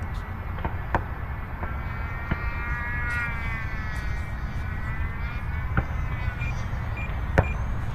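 A Freewing Stinger 4S 64mm EDF model jet comes in to land, a steady whooshing ducted-fan whine with a brief rising-falling tone, set against constant outdoor wind and a few faint clicks.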